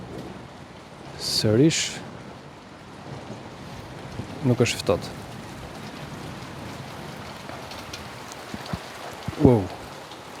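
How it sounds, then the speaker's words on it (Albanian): Steady rain patters through a stormy spell, with a few short bursts of nearby talk over the constant wash of water. "edhe pse është shi dhe stuhi"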